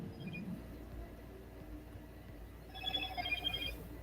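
A mobile phone rings with a repeated electronic tone, fairly faint against steady background noise, and the ringing grows more noticeable toward the end.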